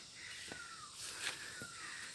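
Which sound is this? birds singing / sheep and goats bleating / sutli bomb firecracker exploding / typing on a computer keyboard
birds singing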